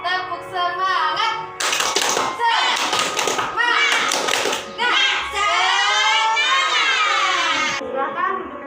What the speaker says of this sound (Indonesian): Ayo kita tepuk semangat terlebih dahulu.